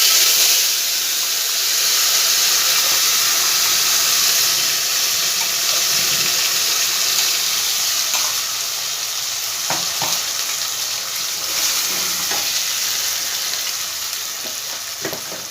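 Ground spice paste frying in hot oil for a vegetarian banana-flower ghonto, giving a loud, steady sizzle and hiss throughout, with a few soft stirring knocks along the way.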